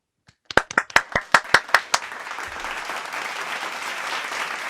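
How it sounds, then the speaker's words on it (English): Applause on a virtual concert call opens with about eight sharp, close, evenly spaced hand claps, then settles into softer, steady mixed clapping from several unmuted participants. "let's give them a round of applause"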